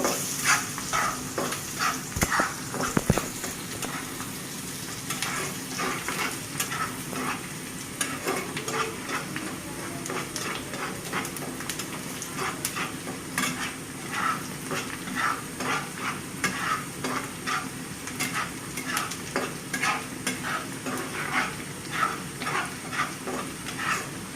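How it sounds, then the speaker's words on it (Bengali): Bay leaves, cloves, cinnamon, cardamom and fenugreek crackle in hot oil with a continuous close sizzle, punctuated by frequent spatters and pops throughout, with no one speaking. "এইভাবে কয়েক সেকেন্ডের মতো এলাচ দারচিনিটাকে আমি ভেজে নেব।"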